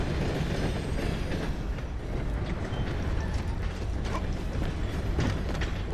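Train rolling along rails in Red Dead Redemption 2, a continuous clattering, rattling mechanical rumble with steady wheel clicks, fairly quiet and unbroken, no speech.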